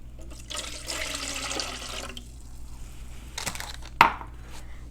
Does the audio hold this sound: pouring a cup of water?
yes